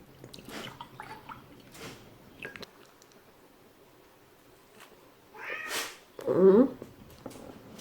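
A cat meows in soft, scattered calls, with a couple of brief louder meows toward the end and quiet gaps between them.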